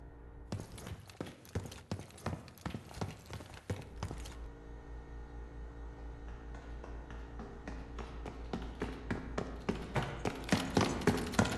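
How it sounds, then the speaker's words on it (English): Footsteps in the Black Ops 6 video game, a run of crisp, evenly spaced steps that fade, then a quieter stretch of ambient hum before the steps return and grow louder and nearer. "you can hear the main character's footsteps as he walks through"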